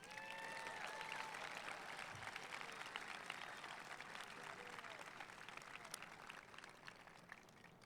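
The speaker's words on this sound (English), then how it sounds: "So let's hear some applause for the class of 2024." An audience applauds the Crescenta Valley High School class of 2024 at their commencement ceremony. The clapping is steady and fairly faint, heard from a distance, and fades slightly over several seconds.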